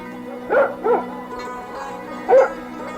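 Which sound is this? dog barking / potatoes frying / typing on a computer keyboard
dog barking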